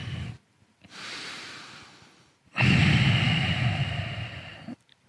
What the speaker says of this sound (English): Keep breathing in and out of your nose.